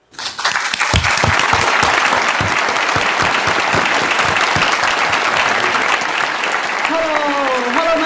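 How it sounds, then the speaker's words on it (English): A large audience at a Hong Kong gathering bursts into sustained applause that runs loud and dense for several seconds, with a voice speaking over the clapping near the end. "Let's give a warm round of applause"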